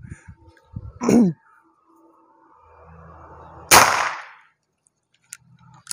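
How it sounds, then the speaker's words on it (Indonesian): Two sharp, snappy airsoft gun shots crack out a few seconds apart, each with a short bright burst, over a faint low hum. "Tembakan ketiga, kita lanjut ke tembakan keempat"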